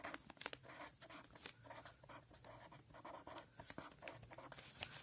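Pen writing on paper while working a maths word problem, a close, continuous run of scratchy strokes with short taps and pauses, heard alone without speech.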